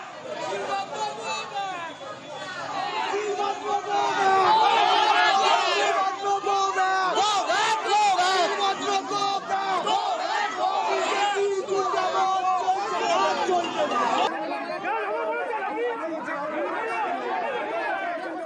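A crowd of protesters shouts Go Back slogans at a BJP candidate in Baranagar ward 14 of Dum Dum during the 2024 Lok Sabha election. Loud, rhythmic chanting and overlapping voices rise and persist throughout.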